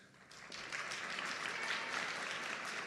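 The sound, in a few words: audience applause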